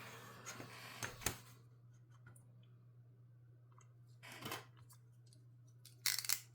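Paper is trimmed for a grungy junk journal, giving a few sharp scissor snips and crisp clicks close up, spaced apart with quiet pauses and a low steady hum beneath.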